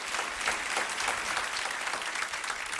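Church congregation applauding in praise, a continuous even wash of clapping at moderate distance with no pauses.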